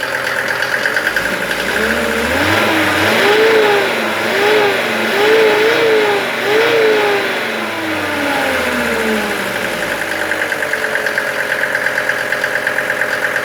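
A Mercedes OM602 2.5 diesel engine driving an irrigation water pump idles, then revs up and down several times in rising and falling surges before settling back to a steady idle, loud and close.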